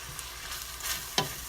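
Rice dressing with a splash of beef stock being stirred in a pan, a soft scraping sizzle with one sharper clink of the spoon near the end, close and fairly quiet.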